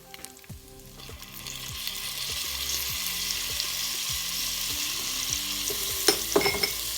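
Garlic sizzles loudly in hot olive oil in a pan, a steady broadband crackle that builds after the first second, with a few sharper pops and scrapes of stirring near the end; no talking.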